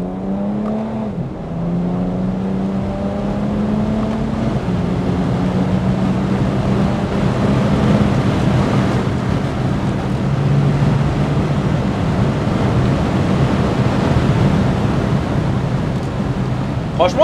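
A BMW 325d E92 diesel car pulls hard under acceleration, its engine note climbing through the gears with a brief dip at a shift, then holding a loud steady drone with road and wind noise throughout.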